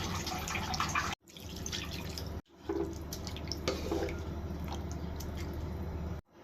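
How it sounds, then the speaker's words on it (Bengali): Water poured into a fish curry simmering with green chilies, a close splashing trickle and sputter with short breaks between pours. "জুড়ার জন্য পানি দিয়ে দেবো।"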